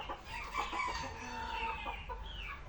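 Chickens cluck and a rooster calls inside a poultry coop on a Turkish farm, a steady layered chorus of nearby birds with overlapping clucks and crowing throughout, no one speaking.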